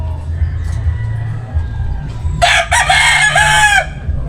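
A rooster crows loudly in a cemetery over a steady low rumble of background noise, with faint chatter in the distance.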